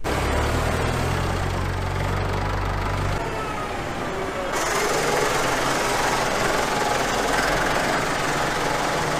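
A parked farm tractor engine runs steadily in a barn sheltered from cold, snowy weather, a loud continuous low rumble with a deep idle throb that shifts to a rougher, broader drone partway through.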